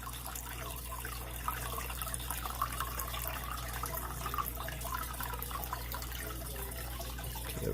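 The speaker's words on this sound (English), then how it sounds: "Filling up my cup with a bunch of water" Tap water runs steadily into a cup at a painting desk, a soft continuous splashing stream that stays even in level throughout, with a faint low hum underneath.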